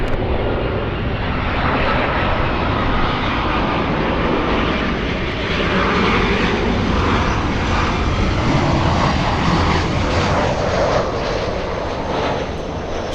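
Airliner engines roar steadily at Los Angeles International Airport, a loud continuous jet rumble and whine that holds for the whole stretch without voices.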